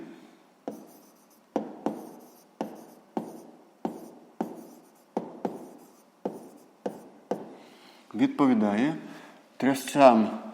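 Handwriting on paper during a sixth-grade maths exercise, a regular series of short scratchy pen strokes about every half second, close and quiet, followed by a person speaking at the end.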